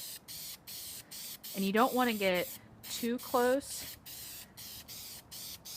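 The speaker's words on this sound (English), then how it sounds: "I'm going to go ahead and spray the back." Spray paint can hissing onto the back of a vintage iron-themed wedding invitation, a steady broad spray sound running under a person's close, clear talking.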